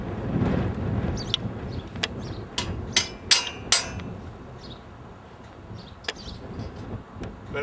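Several sharp metallic hammer strikes ring out, some in quick succession, over a windy outdoor background.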